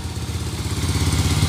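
A Skygo Wizard 150 motorcycle engine runs steadily close by during a carburettor tune-up, a loud, even, pulsing putter with a slight rattle.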